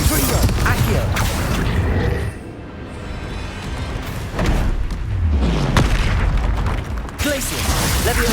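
Confringo spell explosions in the Hogwarts Legacy video game, repeated booming blasts and mechanical creaks in a dense, loud battle mix, with shouted voices over it.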